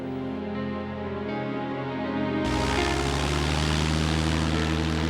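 A propeller airplane carrying agents to Wisconsin drones steadily, its engine hum swelling sharply partway through into a louder, fuller roar that holds without talk.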